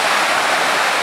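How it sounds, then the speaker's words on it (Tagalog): A big ocean wave rushes in at Hundred Islands, a steady, loud wash of broadband surf noise that fills the whole moment with no voices over it. "Mami, may malaking wave. Parating na."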